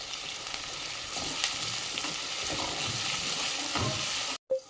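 Onions sautéing in a pan for a Karnataka-style capsicum palya, a steady close hiss and sizzle with occasional stirring scrapes, cut off abruptly near the end.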